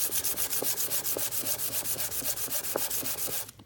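Sandpaper stroking back and forth across the face of a hardened 440C stainless steel cutter from a PURE juicer, a steady close rasping rub with regular strokes throughout, stopping just before the end.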